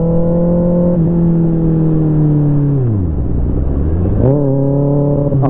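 A motorcycle engine idles loudly nearby, then drops in pitch and lugs as the clutch is let out slowly, before climbing back up as the bike pulls away.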